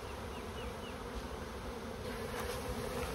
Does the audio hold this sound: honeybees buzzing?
yes